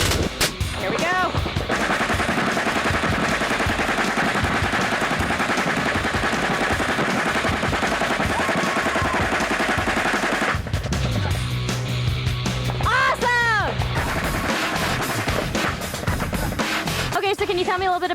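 MP5 submachine gun firing 9mm NATO rounds at a range, sustained rapid automatic bursts crackling loudly and close, with voices speaking partway through.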